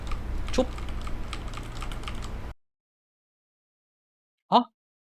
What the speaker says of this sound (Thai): เสียงกดคีย์บอร์ด ที่แบบโคตรพ่อโคตรแม่ดัง